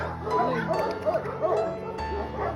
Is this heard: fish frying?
no